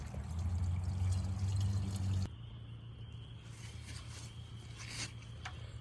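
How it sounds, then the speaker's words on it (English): Water is poured into the priming hole of a pond drain pump, giving a steady close trickle and splash that drops to a quieter, thinner dribble partway through. "to prime the pump, I'm just gonna pour some water down into the hole right there"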